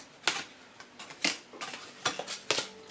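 Tarot cards being shuffled by hand, a few quiet, crisp riffles and flicks in uneven bursts, close to the microphone with no speech.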